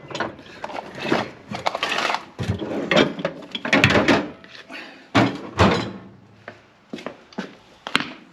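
A drawer slides and clunks, followed by a series of knocks, rattles and clanks as metal tools are shifted and a grinder is pulled out, close by.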